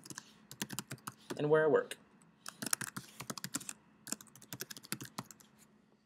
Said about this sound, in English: I'm going to type my name, my position,